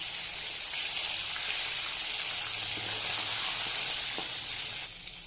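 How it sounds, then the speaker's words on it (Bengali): Fish fried in a pan, giving a loud, dense, close-up hiss of sizzling oil that holds steady and eases slightly at the very end, with no voices. "তো মাছ ভাজা হয়ে গেছে"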